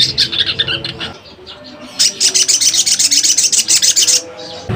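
Sogon Ijoan songbird singing loudly and close, rapid repeated harsh chirping phrases in a fast rhythm after a brief pause.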